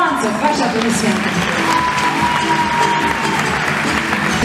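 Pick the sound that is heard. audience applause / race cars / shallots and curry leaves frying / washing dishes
audience applause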